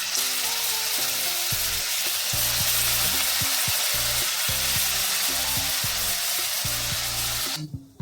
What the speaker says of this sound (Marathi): आता कोळंबी फ्राय करून घ्यायची चांगली.